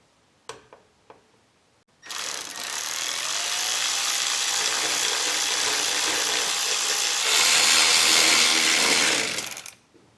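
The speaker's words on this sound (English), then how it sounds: "now put the hose clamp here, and we're going to tighten it right there." A power tool runs steadily for several seconds, tightening a hose clamp on a newly mounted coolant overflow tank, after a few short clicks and taps, then rises in pitch near the end before stopping.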